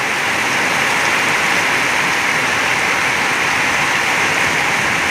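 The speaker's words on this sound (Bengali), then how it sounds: "দেখো চূড়ান্ত বৃষ্টি হয়েছে একেবারে।" Heavy rain pours down in a dense, even roar, close and loud, with no pauses or voices across the whole stretch.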